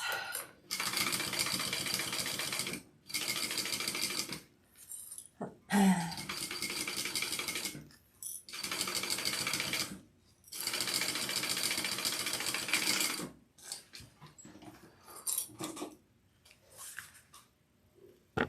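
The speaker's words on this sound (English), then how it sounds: "let's top stitch and baste that onto our piece" A sewing machine topstitches and bastes fabric onto a sling piece, running in several steady bursts of a few seconds each with short pauses between them, close by and fairly loud, with no talking.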